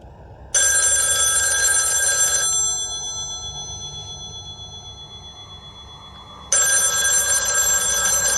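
A telephone bell rings loudly in two long bursts separated by a quiet pause of several seconds, with no one speaking.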